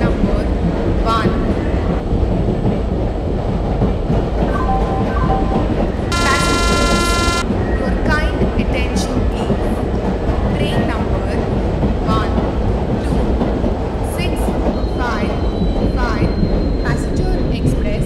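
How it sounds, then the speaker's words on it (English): An Indian passenger express train in a video game rumbles steadily along the track as it arrives at a platform, with a short high horn-like tone midway and faint squeals over the continuous rolling noise. "Passenger express is arriving at platform number 1."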